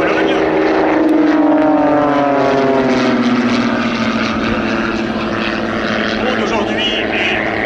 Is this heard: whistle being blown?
no